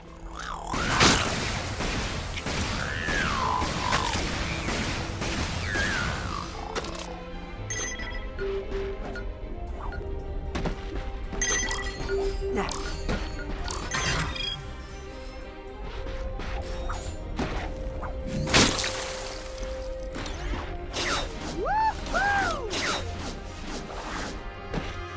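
Combat in the video game Ratchet & Clank, with dense loud gunfire, crashes and explosions, then sparser bursts, whooshes and ringing electronic tones, heavy and continuous throughout.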